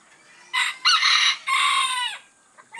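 A white bantam rooster crowing nearby, one loud drawn-out crow in several rising and falling bursts against a quiet background, with a faint cluck at the end.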